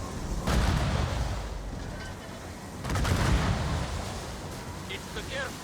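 Ship-mounted mortars fire during a naval ambush in Assassin's Creed Rogue, with two heavy, rumbling booms a couple of seconds apart, each trailing off slowly over a noisy battle background.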